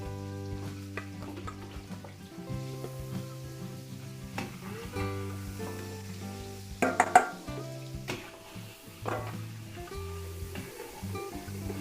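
Garlic sizzles gently in a frying pan during Filipino party cooking, a soft continuous crackle broken by a few clinks and scrapes of a utensil against the pan, louder for a moment near the middle.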